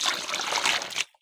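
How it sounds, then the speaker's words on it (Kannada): Leftover water is poured into a bucket of harvested Mallika mangoes, a steady close splashing trickle running for about a second before stopping abruptly. "ಇನ್ನು ಇದಕ್ಕೆ ಉಳಿದಿರೋ ಎಕ್ಸ್ಟ್ರಾ ನೀರನ್ನು ಇದಕ್ಕೆ ಹಾಕಿ ಬಿಡುದು"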